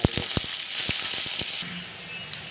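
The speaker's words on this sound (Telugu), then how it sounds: "ఇవి బాగా వేగనివ్వండి" Cumin, urad dal, chana dal and garlic frying in hot oil as a tempering for peanut coconut chutney, giving a steady close sizzle with sharp crackles and pops scattered through it.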